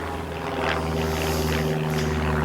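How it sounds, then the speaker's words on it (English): An aeroplane passes overhead near a horse yard, a steady droning engine hum with a strong low tone that holds loud and unbroken throughout, with no talking. "excuse the aeroplane."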